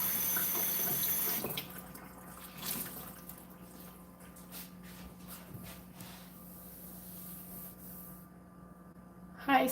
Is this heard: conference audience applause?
no